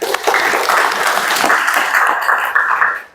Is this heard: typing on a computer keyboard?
no